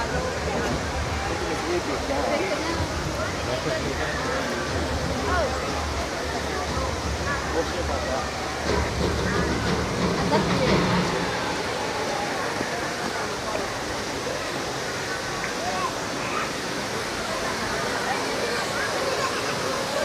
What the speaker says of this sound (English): Can you hear the wind gusts?